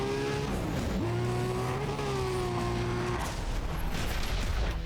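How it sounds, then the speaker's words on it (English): A Nissan Skyline Nismo races in the video game Need for Speed ProStreet, its engine droning loudly and shifting pitch through gear changes, with tire noise and a rushing roar throughout. "Oh, it's a Nissan Skyline Nismo?"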